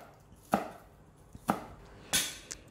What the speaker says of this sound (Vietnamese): Các cọng hành lá thì mình sẽ sắc nhỏ nhỏ ra luôn.